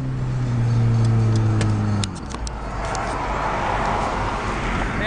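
A car driven recklessly, its engine hum and a rising tonal whine at first, then a dip and a rough, continuous road roar heard from inside the vehicle.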